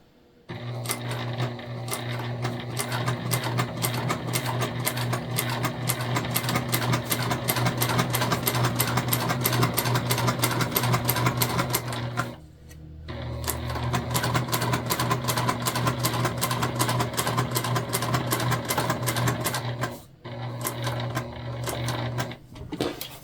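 A sewing machine stitches steadily across a self-drafted tote bag, a fast continuous whir with a sharp rhythmic needle chatter that runs in long bursts, pausing briefly twice before resuming, close and alone.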